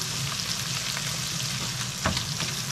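Onions sauté in a frying pan with a steady, loud sizzle and a brief stir or scrape partway through, with no talking.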